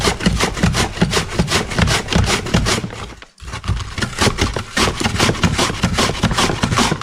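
A knife slices a firm beetroot into thin half circles on a board, with loud, steady, rhythmic rasping strokes that pause briefly midway and then resume.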